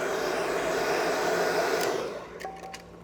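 A heat gun blows steadily on satin khaki green vinyl wrap over a Tesla Model Y front bumper, a loud continuous whooshing hum that eases off near the end, giving way to a few faint clicks and a soft tone.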